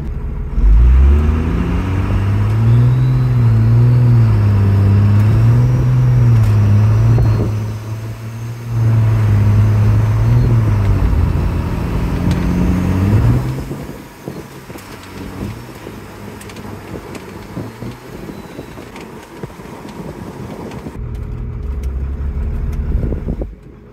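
A second-generation Ram pickup with a Cummins diesel and a swapped Allison six-speed transmission revs during a test run, a loud close rumbling engine note rising and falling in waves before dropping to a lower idle-like drone.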